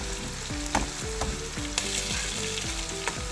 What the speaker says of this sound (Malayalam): ഇപ്പോൾ രണ്ടാമത്തെ സെറ്റ് ഞാൻ ഇട്ടതാണ് മീൻ ഫ്രൈ ചെയ്യേണ്ടതാണ് ഇത് വറുത്ത് പോരാറായിട്ടുണ്ട്